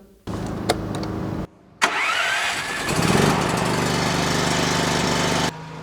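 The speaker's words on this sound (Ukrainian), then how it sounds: "зараз ми опять запустили наш генератор" A backup generator at a food-processing workshop during a power blackout cranks briefly, stops, then starts again and runs at a steady, loud mid-pitched drone before cutting off near the end.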